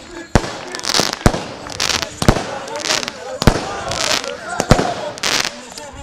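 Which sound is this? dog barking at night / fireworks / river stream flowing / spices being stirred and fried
fireworks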